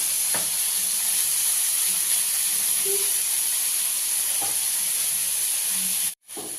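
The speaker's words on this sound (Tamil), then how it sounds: "இப்போ தக்காளி பழம் வதங்குறதுக்கு கொஞ்சம் உப்பு போட்டுடலாம்." Tomatoes sauté with salt in a pan, giving a steady, moderate sizzle and hiss with occasional faint stirring taps, cut off by a brief break near the end.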